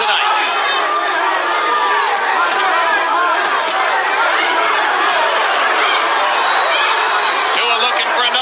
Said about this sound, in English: Crowd chanting, Tua, Tua, Tua.